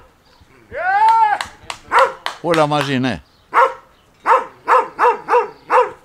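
A dog barks in a quick, regular series of sharp yelps outdoors while pigeons fly overhead, following a man's loud calling and talk.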